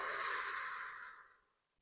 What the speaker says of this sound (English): And a deep breath out.